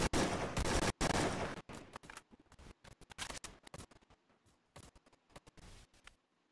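Gunfire in a mobile video game comes in loud rapid bursts of shots with short gaps, then sparser, fainter shots toward the end.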